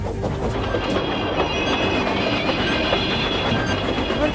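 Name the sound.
train running on tracks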